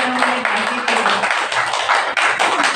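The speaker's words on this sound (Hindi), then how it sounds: "ताली बजाओ" An audience at a Brahma Kumaris murli discourse claps together, a dense, steady wash of applause that fills the whole few seconds without a break.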